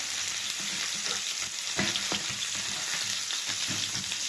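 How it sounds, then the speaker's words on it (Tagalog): Onion, garlic and ginger sizzle in a pan for a chicken liver adobo, with a constant close frying hiss and occasional scraping knocks of a utensil stirring. "niluluto po natin ang sibuyas, bawang at luya"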